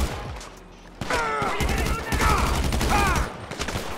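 Gunfire in GTA 5 during a street shootout with a butler joining in, bursts of rapid shots crackling over a low rumble and starting abruptly after a quieter opening, with a voice talking between volleys.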